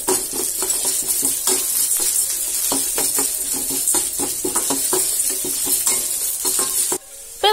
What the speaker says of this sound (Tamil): முந்திரி பருப்பு சேர்த்துக்கலாம். கூடவே திராட்சையும் சேர்த்து நல்லா வறுத்துக்கலாம்.